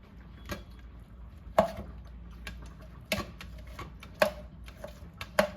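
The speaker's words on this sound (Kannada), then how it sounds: "ಆ ಟೊಮೊಟೊ ತಗೊಂಡು ಈಗ ಅದನ್ನು ಸ್ಮ್ಯಾಶ್ ಮಾಡ್ತಾ ಇದ್ದೀನಿ" Tomato being smashed together with garlic and green chilli, heard as sparse, sharp thuds and knocks at irregular intervals over a faint background, with no talking.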